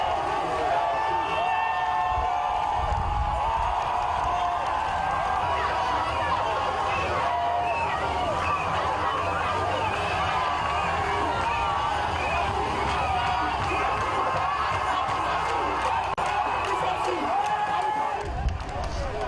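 A jubilant crowd along a highway welcoming President Alpha Condé, dense babble and cheering voices holding at a steady level throughout, with occasional thumps.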